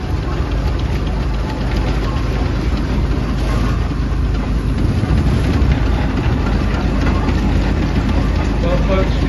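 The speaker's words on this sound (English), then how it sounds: "we see a truly immense and wondrous selection of steam engines coming into the arena this afternoon" Steam traction engines rumbling into the arena at a steam rally in Shrewsbury, a continuous heavy low engine drone close by throughout, with crowd and outdoor noise around it.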